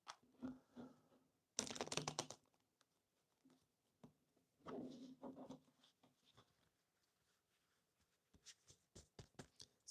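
Tarot cards, worn and less slick with age, shuffled by hand in a series of short papery bursts, each a quick flurry of card flicks separated by pauses, close and fairly quiet.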